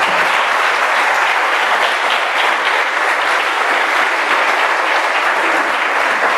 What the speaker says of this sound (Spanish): denle un aplauso a Jesús